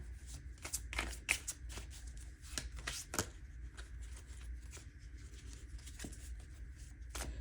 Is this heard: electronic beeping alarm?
no